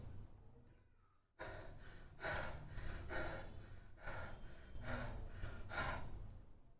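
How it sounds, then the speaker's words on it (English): A person panting in short, quick breaths, a soft intake followed by several rhythmic, evenly spaced breathy puffs, close and fairly quiet with no talking. "This is a kind of panting."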